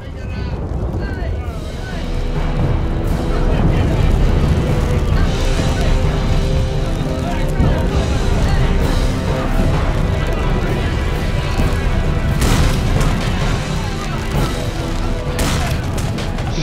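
Cannon fire in the KingWars video game, with dense rumbling booms and volleys over a continuous roar, while players talk over the barrage.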